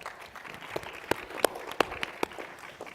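Scattered applause from a panel discussion audience, fairly faint, with a handful of distinct louder claps standing out over a soft patter.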